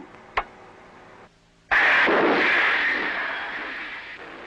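A torpedo launched from a US nuclear submarine in a firing exercise: a sharp click, then a sudden loud rushing whoosh that slowly fades away.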